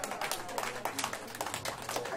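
An audience claps together in a hall, a dense patter of many hands that keeps up briefly at a moderate level.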